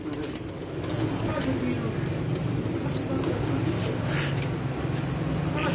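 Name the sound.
pigeons cooing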